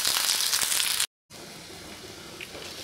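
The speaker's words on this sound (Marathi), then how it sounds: "त्यात कांदा परतून घ्यायचा आहे" Onion sautéing in hot oil in a pan while making a Marathi-style corn curry masala: a loud, steady frying sizzle, broken by a brief silent cut, then continuing softer and even.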